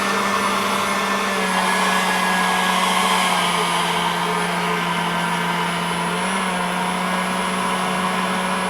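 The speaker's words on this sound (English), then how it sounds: "now I'm going to use a blower so you can see while you're riding on the road" Steady, loud whine of an air blower drying a car's finish after a rinseless wash, running continuously with a constant pitch and no talking.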